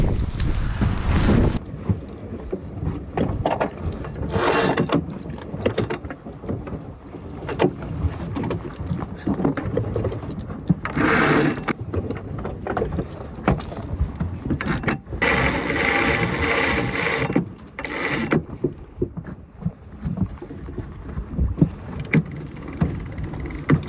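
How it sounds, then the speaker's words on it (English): A wooden sailboat, Tally Ho, is tacked by a single sailor, with steady wind and water rushing around the hull, bursts of sail flapping and winch clicks and rattles, and occasional speech mixed into the noise. "Now it's time to tack the boat, so this will be another first for me, tacking single-handed."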